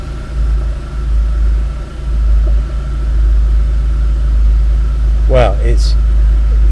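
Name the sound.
Porsche 993 Turbo S engine idling after start-up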